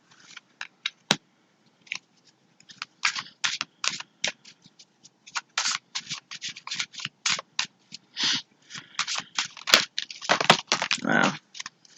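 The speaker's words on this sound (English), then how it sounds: "I'm going to go ahead and pull the 6 tarot cards, and then I'm going to pull clarifiers as I go." Tarot cards shuffled and pulled from a deck by hand, a long run of close, crisp riffling snaps and slides in quick irregular bursts, with no talk over them.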